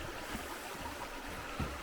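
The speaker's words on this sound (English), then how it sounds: "Creek action." A creek in a Mount Rainier rain forest flows with a soft, steady broadband wash over a brief stretch, faint and even with a light splash near the end. No one speaks.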